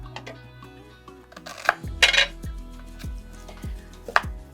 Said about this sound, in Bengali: তাহলে একটা কড়া বসিয়ে দাও, একটা কড়া বসিয়ে দেবো, তাতে সর্ষের তেল গরম করতে দাও